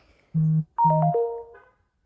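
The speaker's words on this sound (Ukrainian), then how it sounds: "Повідомлення якісь прийшли." A short chiming message notification from the Toca World mobile game: two low tones followed by a rising cluster of bright, bell-like notes, clear and alone with no talk.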